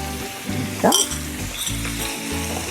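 Fish fajitas sautéing with fajita seasoning in a hot pan, loud close sizzling and frying broken by scraping strokes and a sharp clink as the food is stirred around.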